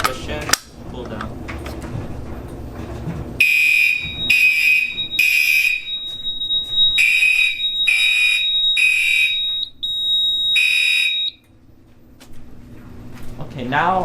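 A fire alarm on a Silent Knight 5820XL panel sounds after a manual pull station is pulled, giving loud, steady repeating horn blasts with a strobe-like tone running under them. Earlier, handling noise and clicks come from the basement pull station.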